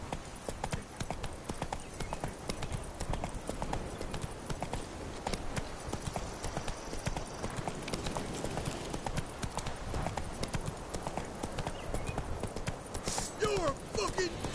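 Galloping hooves of Roach, the horse in The Witcher game, beat in a steady, continuous clip-clop throughout, with occasional voice and game sounds layered on top.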